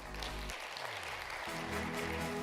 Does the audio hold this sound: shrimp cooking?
no